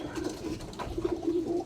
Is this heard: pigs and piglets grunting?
no